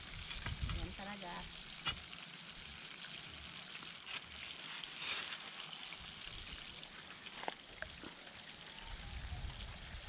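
Food sizzles and fries in a pan over an outdoor cooking fire while rain falls, a faint, steady crackle with occasional clinks of stirring.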